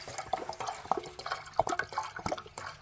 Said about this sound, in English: I'm going to continue to fill this water reservoir